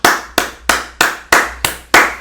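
Close, loud hand claps, seven sharp smacks in an even, steady rhythm with brief pauses between, heard alone.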